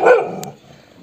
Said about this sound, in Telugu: కుక్క కొరుతుంది రే, మనం వస్తున్నామనే.